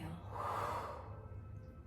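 A slow, deep breath during a yoga rehabilitation class, a soft airy rush that swells and fades over about two seconds, close and fairly quiet.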